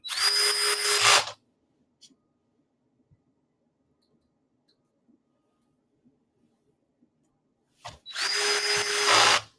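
Two short bursts of a power drill on its lowest torque setting driving screws, one at the start and one near the end, separated by near-silence with faint small clicks.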